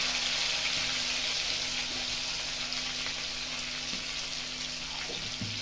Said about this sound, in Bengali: ওই তেলে দিয়ে দেবো আলুটা একটু ভেজে নেব